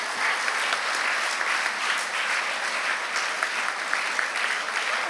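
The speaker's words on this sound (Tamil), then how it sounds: "ஒரு உற்சாக கரகோஷத்தை எழுப்புங்க." Steady, dense crowd applause at an education fair event, sustained and fairly loud throughout with no voices breaking through.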